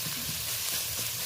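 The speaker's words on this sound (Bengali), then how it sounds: "তো আদা বাটাটা দেওয়ার পরে বেশ ভালো করে 2-3 সেকেন্ড নাড়াচাড়া করে নিলাম" Ginger paste fries in hot oil, a dense close sizzle and hiss with faint stirring underneath, brief and steady with no voices.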